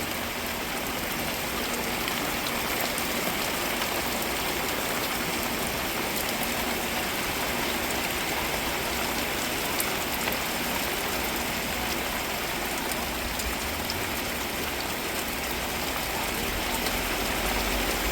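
Steady downpour from Cyclone Ditwah fills the air with a constant hiss and patter, thick and unbroken throughout, moderately loud and close.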